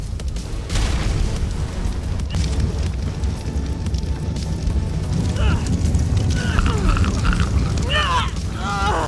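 Jars of Pitch bursting in a large player battle in Ark Survival Evolved, heavy booming fiery roars rolling on throughout, with a voice speaking over the later part.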